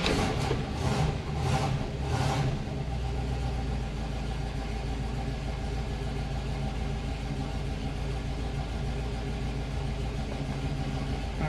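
A carbureted car engine, started after a month sitting once an electric fuel pump has filled the carburetor, catches after a few uneven cranking bursts and settles into a steady, close, low idle rumble.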